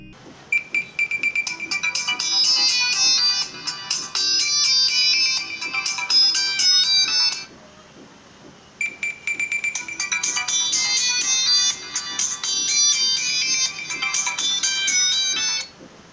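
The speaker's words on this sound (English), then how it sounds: "in this round we will test speaker quality of both phones" Melodic electronic ringtone plays loudly from a Qmobile Noir phone's rear-facing speaker, two long bright bursts of repeating chime phrases separated by a short pause, with no voices.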